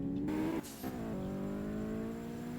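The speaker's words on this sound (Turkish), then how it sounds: "Ben bunu galiba turba takmışım. Turba sesi geliyor." A turbocharged car engine in a realistic driving video game drones steadily with a high turbo whine, briefly dipping as it shifts gears before settling into a sustained hum, close and alone without talk.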